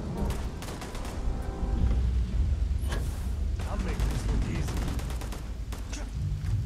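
Grenade explosions in the Starfield video game, heavy blasts and bursts rising out of a busy, continuous combat din with gunfire, while a voice talks over the action.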